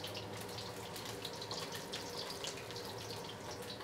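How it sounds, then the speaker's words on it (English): Steady water running into a container, a continuous splashing hiss that holds evenly throughout with no voices. "let's add a little bit of water to that"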